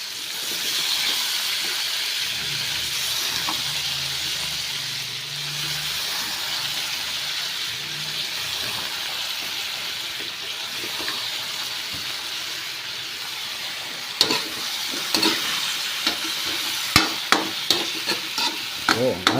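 Fish and squash sizzle and hiss steadily in a hot pan, a loud continuous fry broken by sharp scraping clicks of stirring toward the end, with no talking.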